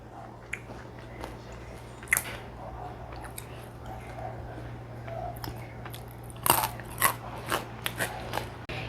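Crunchy Indonesian snack bitten and chewed close to the mouth, with a few sharp crackling crunches standing out over a steady low hum and quiet background.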